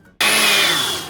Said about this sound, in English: the shop owner helped me grind them using this machine.